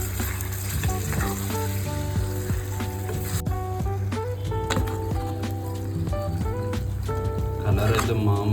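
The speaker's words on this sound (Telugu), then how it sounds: "సో మటన్ అయితే ఫ్రై అవుతుంది." Marinated mutton fries in a pot with a steady, close sizzle and crackle that runs the whole way through, beneath background music and occasional talk.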